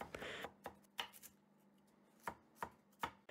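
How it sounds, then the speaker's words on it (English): Onion and celery chopped with a knife on a cutting board, a handful of sharp, separate chops with pauses between them, close and clear over a faint background hum. "we chop up some onion and celery"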